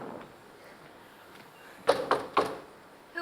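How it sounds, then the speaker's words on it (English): Three quick knocks on a door as a live radio-play sound effect, sharp and close, coming after a stretch of quiet room tone. "I'll knock at the door."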